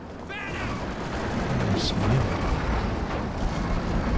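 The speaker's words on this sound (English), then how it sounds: "Time on target dropped on all these support weapons." Time-on-target artillery barrage in Company of Heroes 2 pounding support weapons: a steady, dense rumble of overlapping blasts rolls on throughout, with a brief sharper crack near the start and a faint voice underneath.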